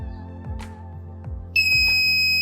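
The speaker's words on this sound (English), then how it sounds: "as soon as the thermistor increases this temperature, the buzzer is buzzing" A buzzer on a thermistor heat sensor circuit sounds a sudden, sustained high electronic tone after a few soft knocks and rustles, continuing steadily to the end.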